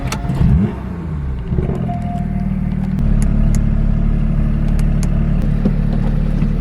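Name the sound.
Porsche 991.2 GT3 manual car driving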